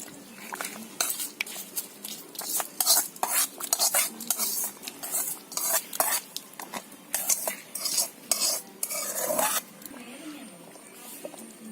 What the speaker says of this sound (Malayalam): എന്നിട്ട് ഇതിലോട്ട് കടുക് പൊട്ടിച്ച് ചേർത്ത് കൊടുക്കാം.